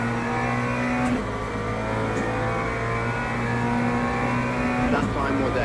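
A GT3 race car's engine drones in the rain at Monza in Le Mans Ultimate, steady revs with brief shifts in pitch around gear changes, while a person talks over it throughout.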